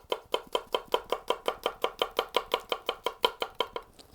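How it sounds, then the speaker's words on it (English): A Honesuki boning knife tap-chops on a cutting board, giving about twenty even, crisp knocks in a steady quick rhythm, close and clear, with no talking. "The Honeski, let's say you want to get a little tap chop going."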